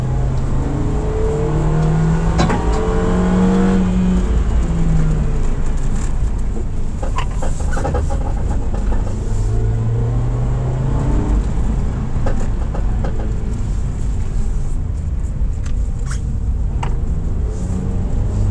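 A 2023 Toyota Rush GR Sport rear-wheel-drive SUV accelerating, heard from inside as a steady, loud engine drone with rising and falling revs over constant road noise.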